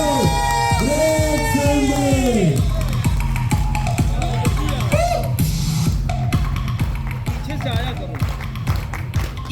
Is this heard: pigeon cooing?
no